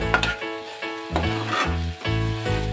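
Okra (bhindi) fries on high heat in a pan, a loud, close sizzle that swells with repeated stirring strokes, alongside a strong tonal hum in the background and no voices.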